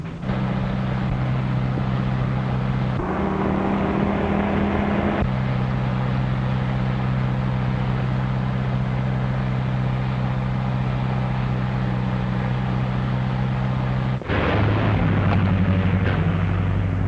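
A 1930s car engine drones steadily and loudly for the whole stretch. It shifts in pitch a few times as the car drives back toward the listener, and no voices are heard over it.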